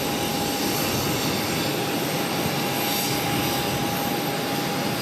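A jet airplane roars steadily on takeoff from runway 22 right at Boston Logan, a loud, unbroken broadband engine rush with a thin whine running through it.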